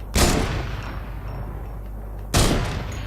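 Two loud, sharp sniper rifle shots in the Fortnite Save the World video game, roughly two seconds apart, each with a booming report that rings out and decays.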